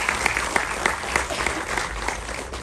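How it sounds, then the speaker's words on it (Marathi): Audience clapping for a speaker at a motivational talk, a dense burst of many hands with crisp individual claps standing out, steady and fairly close throughout the short stretch, with no voices over it. "ह्या गौरीताईंसाठी एकदा टाळ्या वाजवा."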